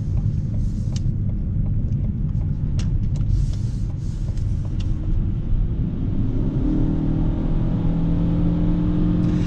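A 2020 Ford Kuga ST Line X plug-in hybrid SUV pulls away and accelerates, a low rumbling whir that builds and rises in pitch toward the end, heard from inside the cabin without talk.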